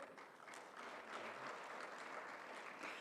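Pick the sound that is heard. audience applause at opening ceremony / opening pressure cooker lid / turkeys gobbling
audience applause at opening ceremony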